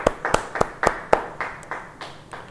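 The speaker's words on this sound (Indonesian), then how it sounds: "Beri tepuk tangan buat Tuhan." A church congregation claps hands at a Bible study, a handful of sharp, separate claps first in a loose rhythm, then thinning to scattered softer ones.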